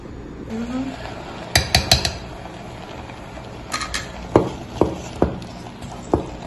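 A spoon knocks and scrapes against a cooking pot while food is stirred on a home stove, giving irregular metallic clinks, some in quick clusters and others spaced apart, close and fairly loud over faint kitchen background.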